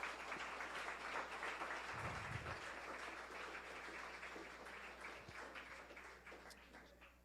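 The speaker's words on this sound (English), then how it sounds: "I'd like to give all of the boys that Eagled recently a round of applause because they deserve it." An audience at a scout troop's Eagle Court of Honor claps steadily for newly ranked Eagle Scouts, a soft, even patter of many hands heard from a distance and lasting throughout.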